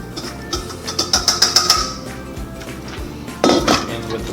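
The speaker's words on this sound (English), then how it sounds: "You can mix up our dry ingredients first in here. That's just the baking powder with the flour." Flour and baking powder are mixed together in a bowl, giving a quick run of rhythmic clinks and scrapes from a utensil against the bowl, followed by a brief pause and a louder final clatter.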